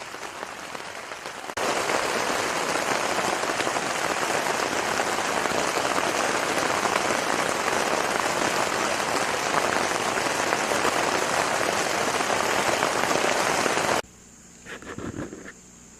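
Steady, dense rain pours down at Dillon State Park campground, a loud continuous hiss for most of the stretch before cutting off abruptly near the end, leaving a few quieter sounds.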